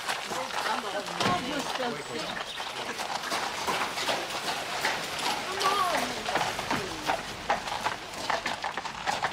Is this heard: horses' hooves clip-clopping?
yes